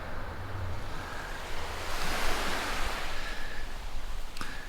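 Ocean waves at Shipwreck Beach on Lanai wash ashore in a steady rushing surf, swelling louder midway and softening again, mixed with light wind noise and no speech.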